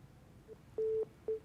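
A telephone call disconnect tone: two short, clean electronic beeps, the first longer than the second, sounding alone over faint background hiss.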